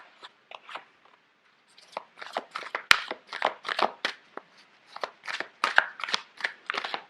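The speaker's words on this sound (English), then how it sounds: "Sorry, these cards are quite big. It's hard to shuffle." Large tarot cards being shuffled in quick crisp riffles and flicks, irregular bursts with brief pauses, close by; no talking.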